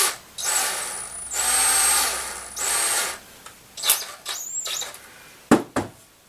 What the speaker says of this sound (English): now we're going to go ahead and pre-drill some of these